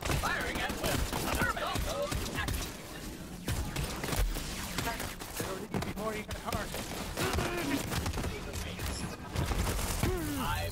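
Soldiers fire continuously in Borderlands 3, a dense game firefight with rapid overlapping shots under music and voices, loud and sustained throughout.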